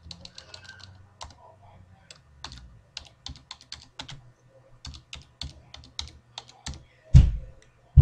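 Keys click in short irregular runs as someone types into a fillable form in Microsoft Word 2010, ending with a couple of heavier thumps.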